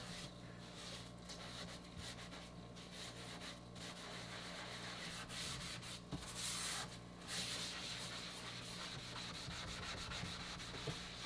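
A rusty kitchen sink is scrubbed with a baking soda cleaner, producing soft continuous rubbing and scouring strokes at close range over a faint steady hum.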